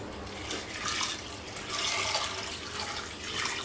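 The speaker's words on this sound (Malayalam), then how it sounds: "ഇതിലേക്ക് നമുക്ക് പയർ വേവുന്നതിന് ആവശ്യമായിട്ടുള്ള വെള്ളം ചേർക്കാം" Water is poured into a pot of green gram for cooking, a moderate, splashing pour that comes in three or four gushing swells.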